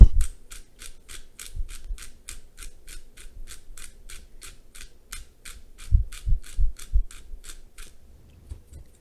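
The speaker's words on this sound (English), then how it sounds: "I'm going to crack a little bit more of some black pepper in here" A pepper grinder cracks black pepper in a steady run of about two dozen crisp, evenly spaced clicks, close and fairly quiet, with a few soft low thumps underneath.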